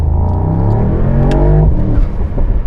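Close, loud revving of a 2023 Mercedes-AMG SL 63 4Matic+ 4.0 V8 on a two-gear downshift in sport mode, sharp rising engine blips followed by a rougher falling burble.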